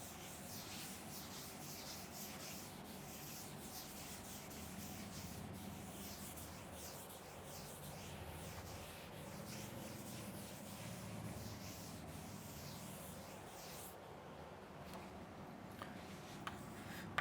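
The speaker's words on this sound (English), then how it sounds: "I am going to rub this part" Steady soft rubbing of an eraser or duster across a classroom board, a continuous scraping swish that runs on alone for several seconds and thins out near the end.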